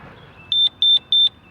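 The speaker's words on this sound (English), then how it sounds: "Yeah, see, it beeps at you again, says the battery's low." Three short, loud, evenly spaced electronic beeps from a gate opener control board giving a low battery warning, close by with a faint hum underneath.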